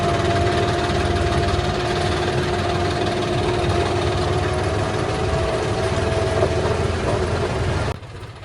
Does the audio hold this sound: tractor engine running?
yes